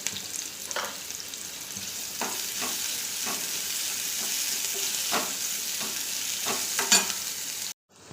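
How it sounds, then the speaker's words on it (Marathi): Thinly sliced onions fry in hot oil in a kadhai, giving a steady crackling sizzle broken by repeated scraping stirs of a spatula, followed by a sudden cut to silence. "तेल गरम झालं की त्यामध्ये दोन मध्यम आकाराचे कांदे पातळ कापून भाजून घ्यायचे"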